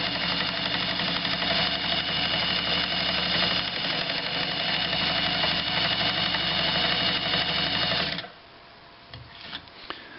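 Universal KAB-M sewing machine running at full speed, a steady close whirring hum with fast rhythmic needle clatter that cuts off abruptly near the end, leaving a few faint handling knocks.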